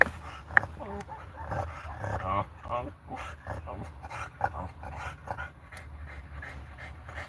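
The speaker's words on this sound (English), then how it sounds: "my dog is about ready to freak. So she hears another dog right now" A dog reacts to another dog nearby, with agitated yips, whimpers and panting mixed into steady talk from a person indoors, fairly close and moderately loud throughout.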